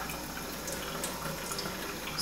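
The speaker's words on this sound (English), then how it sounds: "I'm just going to submerge the brushes, being very careful that you don't get water above the little silver thing here." Makeup brushes being dipped into water at a sink while cleaning them, a steady close trickle and splash of running water throughout.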